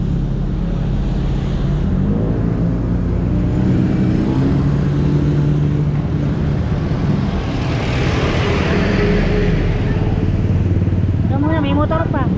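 A motorcycle engine rumbles loudly and steadily past at close range on a street, with voices talking over it near the end.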